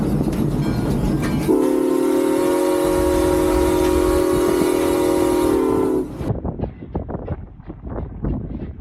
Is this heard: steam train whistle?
yes